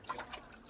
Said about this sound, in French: C'est la douche.